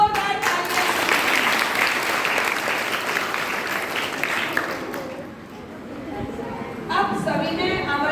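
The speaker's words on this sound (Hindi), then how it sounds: "जोरदार तालियां।" Loud applause from schoolgirls at a classroom quiz contest, thick clapping that fills the room for about five seconds, dips, and then returns briefly near the end, with a voice speaking toward the close.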